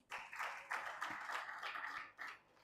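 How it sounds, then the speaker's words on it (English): Audience applause for a foundation's CEO stepping up at an afternoon books-and-business event, a steady wash of clapping hands from a room of people that swells, holds for over two seconds and fades. "Please a round of applause for him."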